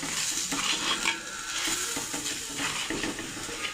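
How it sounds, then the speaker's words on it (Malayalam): A spoon stirs chicken masala powder through a sizzling mixture in a clay pot, with repeated scraping strokes over a low, steady frying hiss, heard up close. "ഇനി പൊടികളെല്ലാം ഒന്ന് മൂത്ത് വരുന്നിടം വരെ ഇളക്കി കൊടുക്കാം"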